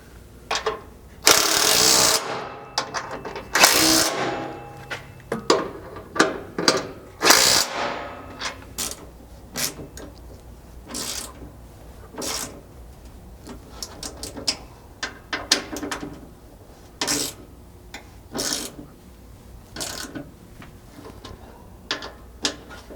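Skid plate bolts on a 2022 Toyota Tundra transfer case skid are tightened with a ratchet, producing a series of sharp clicking bursts, loud at first and then shorter and scattered, with no talk.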